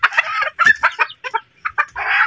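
A chicken clucks repeatedly in loud, close bursts, a rapid run of short clucks with brief pauses and a longer squawk at the end, with no talk over it.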